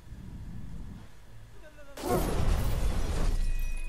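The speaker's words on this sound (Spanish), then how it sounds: "Vamos a romper los cristales." Glass windows bursting into a spray of shards in LEGO Marvel Super Heroes 2, a sudden loud crash with bright tinkling debris lasting over a second, preceded by low game ambience and brief talk.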